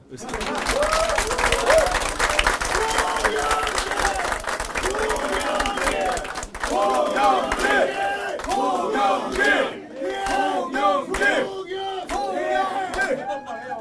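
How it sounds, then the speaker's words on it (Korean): A crowd at a party leadership campaign rally breaks into loud applause and cheering, with rhythmic chanting and shouted voices rising and falling in waves over the clapping. "박수 한번 쳐주세요"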